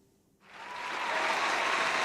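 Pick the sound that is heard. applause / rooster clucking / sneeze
applause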